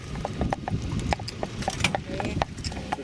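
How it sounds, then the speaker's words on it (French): Horse hooves clip-clopping at a walk while pulling a harnessed cart, a steady close rhythm of hard hoof strikes with faint rattling of the cart behind. "on va mettre la voiture avec le cheval et on part se balader"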